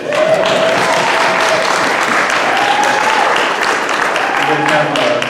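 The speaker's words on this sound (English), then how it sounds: "Yeah, you can applaud him, yes." A church congregation applauds their new co-pastor in a dense, loud, continuous wash of clapping, with cheering voices and chatter mixed in throughout.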